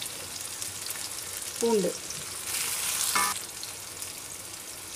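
Mustard seeds, onion and curry leaves fry in hot oil with a continuous crackling sizzle that swells into a louder burst partway through, while a voice speaks briefly.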